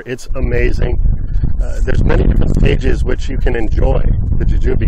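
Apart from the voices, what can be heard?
wind noise on microphone outdoors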